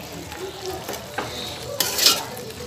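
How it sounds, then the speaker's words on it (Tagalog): A pot of water comes to a boil while carbonara is cooked, heard as a close bubbling sizzle with a few light metallic clinks and a brief louder hiss near the end, with no talk. "kumukulo na po siya"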